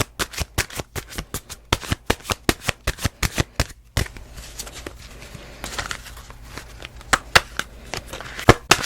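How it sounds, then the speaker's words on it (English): Tarot cards being shuffled up close, a rapid run of crisp riffling snaps in a steady rhythm, then a looser stretch of softer card slides and taps. "I just shuffled and 2 cards jumped out at me"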